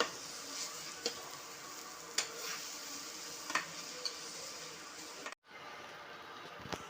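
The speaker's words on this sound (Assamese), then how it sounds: "এতিয়া মই হাই ফ্লেমত দি ভাজি লওঁ।" Grated carrots for gajar halwa fry over a high flame, giving a soft, steady sizzle broken by periodic scraping stirs of a spoon in the pan, with a brief pause near the end.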